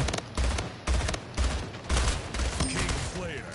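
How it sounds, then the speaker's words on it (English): Rapid bursts of battle rifle fire in the arena shooter Splitgate crack out in quick three-round groups, loud and close, with game effects and a short voice underneath. "Ooh, battle rifle. Let's go."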